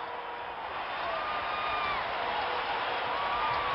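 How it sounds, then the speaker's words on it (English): Hockey arena crowd at the final whistle of a Soviet team versus New England Whalers game, a sustained distant roar of cheering and whistles filling the space, faint and washed out. "And listen to this crowd."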